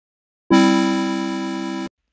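A synthesizer oscillator plays a single sustained note with its filter envelope turned fully up, giving a bright, buzzy harmonic-rich tone with a sharp onset that fades slightly over about a second and a half, heard alone.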